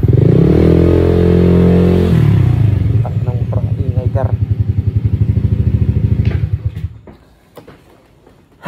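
Motorcycle engine revs high and then drops into a rapid, loud idle putter close by, before cutting out near the end.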